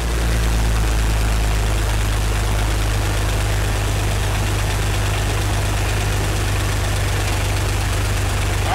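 A Jeep engine idles steadily while Seafoam cleaner is drawn into the intake, a constant low rumble with a slight knock, heard close and alone with no talking.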